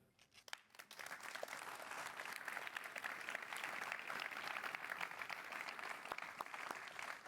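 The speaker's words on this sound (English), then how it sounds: "This is your applause." Steady audience applause after a talk on equity, growth and regenerative agriculture, a dense, even wash of many hands clapping that swells within the first second and holds at a fairly distant, moderate level.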